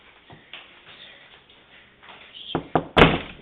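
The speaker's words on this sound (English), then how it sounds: "Knock on the door." Several sharp raps on a door come near the end, loud and close, after a stretch of quiet room noise.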